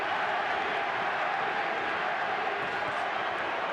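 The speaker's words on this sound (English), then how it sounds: "Manny, Manny, the crowd chant." A packed arena crowd at the 2006 Pacquiao–Morales rematch roars and chants continuously, a dense, even wall of cheering with no breaks.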